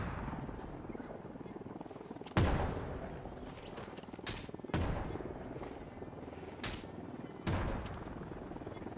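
Gunshots in the Ghost Recon Wildlands shooter: several sharp, loud single reports spaced a couple of seconds apart, each followed by a short echoing decay over a low steady background.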